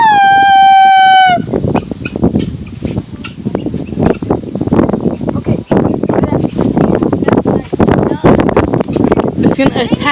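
A rooster crows once, loud and close, with a falling call at the very start, then gives way to steady wind buffeting, rustling and people talking nearby.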